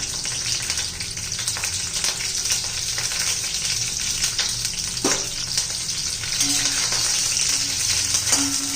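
Green chillies sizzle in hot oil in a kadhai, a loud, steady frying hiss close up, broken by a few sharp pops and stirring clinks, with no one speaking.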